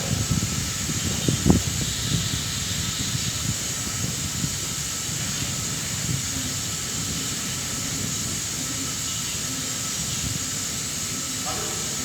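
A natural gas burner firing a rotary kiln gives a steady, loud broadband hiss and roar that runs throughout, with a few knocks early on and brief voices in the background.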